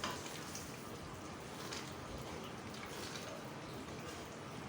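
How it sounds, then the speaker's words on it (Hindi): White lobia masala being sautéed in a pan, giving a steady, soft sizzle with faint stirring throughout, moderately close and unbroken. "भुनाई कर लें अच्छी तरह से।"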